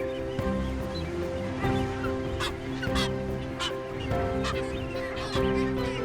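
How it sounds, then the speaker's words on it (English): A dense sooty tern breeding colony calls incessantly, many overlapping high-pitched honking and squawking cries forming a constant din with no pauses. "A breeding colony is seldom, if ever, quiet, as the incessant high-pitched calls sound out"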